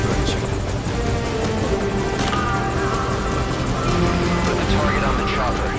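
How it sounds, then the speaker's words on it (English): A helicopter in Metal Gear Solid V: Ground Zeroes keeps up a loud, steady rotor and engine roar throughout, with radio chatter and other game sounds layered over it. "Put the target on the chopper."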